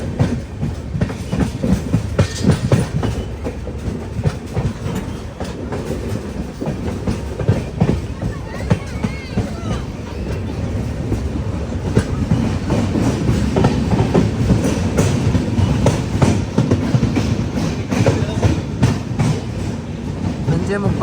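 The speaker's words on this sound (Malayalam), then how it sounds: "ബീരൂർ ജംഗ്ഷൻ റെയിൽവേ സ്റ്റേഷനിലേക്ക് ഇതാ നമ്മുടെ ട്രെയിൻ എത്തിക്കൊണ്ടിരിക്കുകയാണ്." The Jan Shatabdi Express pulls into Birur Junction station with a loud, continuous rumble and rhythmic clickety-clack of wheels over rail joints, steady and close throughout.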